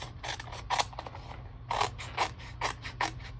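Scissors or a trimmer cutting cardstock for a handmade card, a series of sharp crisp snipping strokes in an uneven rhythm, close and clear with no speech.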